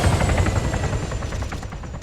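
Machine gun fire in the military video game Arma 3 rattles in dense bursts, loud at first and then trailing off, over a continuous rumbling engine drone with no talk.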